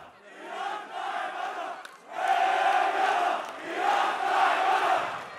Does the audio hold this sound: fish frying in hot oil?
no